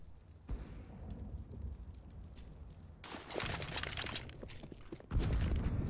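A grenade explodes near the longhouse on Dust2 in CS:GO, with a sudden broadband blast and debris rush over quiet game ambience, followed by a second loud burst.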